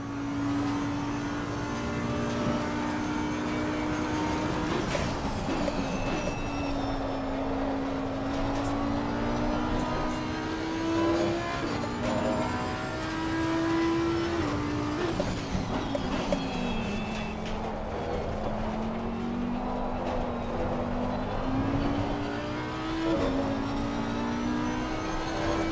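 Race car engine in Assetto Corsa Competizione at Silverstone at night, droning loudly and continuously with rising and falling pitch through gear changes, the wheels spinning in second gear.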